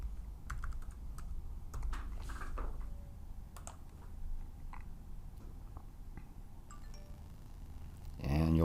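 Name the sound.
typing a passcode on a Mac keyboard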